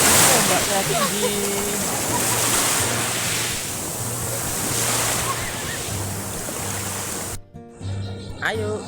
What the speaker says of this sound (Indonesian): Ombaknya tinggi.